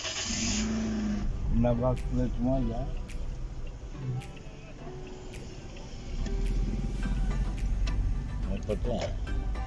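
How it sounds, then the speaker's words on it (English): A car started up and run for testing after a wheel bearing replacement, a steady engine idle hum running throughout with people talking over it. "So we need to start and test this car."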